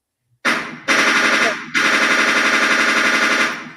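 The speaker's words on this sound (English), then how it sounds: "We gotta have our little gunshots too." Rapid bursts of machine-gun style gunshot sound effects rattle loudly in three long volleys, each a fast steady stutter of shots with brief gaps between.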